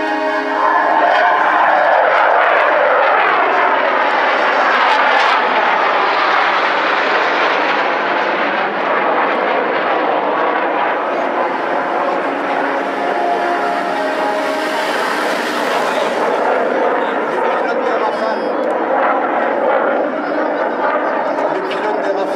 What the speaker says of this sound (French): Lui aussi équipé de turboréacteurs qui viennent maintenant par la droite. Les 4 Rafales au break.